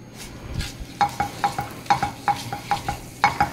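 Butter is spread over a frying pan with a spatula while making crepes, giving soft scraping strokes in a steady rhythm with light sizzling, close and fairly quiet.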